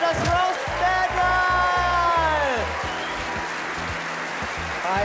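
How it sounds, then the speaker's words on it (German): An audience claps loudly in a sustained burst of applause after a comedy roast battle, with someone speaking over the clapping as it gradually thins out. "Beide waren super, euer Applaus."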